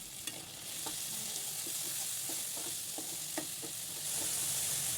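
Garlic and green chilli paste sizzling in a pan for vegetable fried rice, a soft steady hiss with light scraping stirs at intervals, fairly quiet and free of speech.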